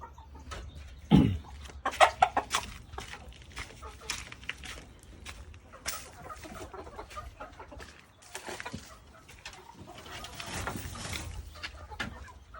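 Backyard Burmese chickens cluck on and off at close range under a raised house over a steady outdoor background, with a few louder bursts early on.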